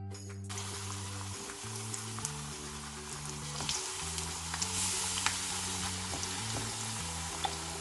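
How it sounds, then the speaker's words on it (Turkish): Eggplant fries in hot oil, sizzling and crackling steadily, a dense continuous hiss close by, with a low hum running underneath. "Patlıcanları kızgın yağda arkalı önlü kızartalım."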